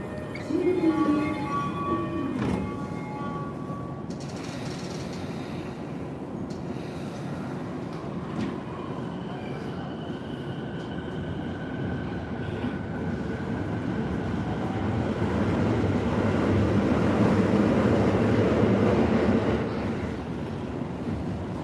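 Steady rumble and rattle from inside a moving Tokyo train carriage, with rising whoosh as speed builds and faint mechanical tones at the start.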